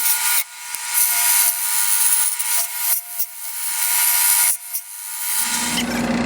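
Skew chisel shaving wood on a spinning lathe, a close, loud scraping hiss in several repeated passes with brief gaps, the lathe hum continuing at the end.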